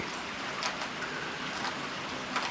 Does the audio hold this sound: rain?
yes